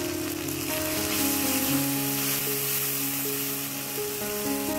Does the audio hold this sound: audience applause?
no